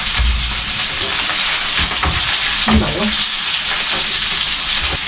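Food frying loudly in a pan, a dense, rain-like crackling sizzle heard up close with a few soft knocks of utensils throughout.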